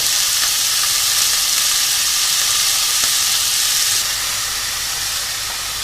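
Ground beef browns in olive oil over high heat, giving a loud, continuous sizzle and hiss that stays steady and close the whole time, with no voices.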